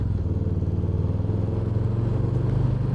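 A 2021 Harley-Davidson Softail Slim motorcycle engine pulls hard under throttle, a steady loud low rumble with a rapid throbbing pulse, close by and with no talk.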